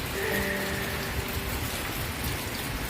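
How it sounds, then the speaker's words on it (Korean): Steady rain falls during acacia blossom season at a rural beekeeping farm, a dense, even hiss of drops on surfaces holding at moderate level throughout, with a few faint tonal notes near the start and no talk. "야속한 비가 계속 내립니다"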